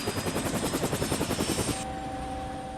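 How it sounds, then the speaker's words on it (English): A British Army Apache helicopter flies nearby, its rotor producing a rapid, steady thudding pulse under a continuous turbine whine, loud and close throughout. "I'm taking to the air with Matt Wilcock. In his day job, he's an Apache helicopter pilot for the British Army"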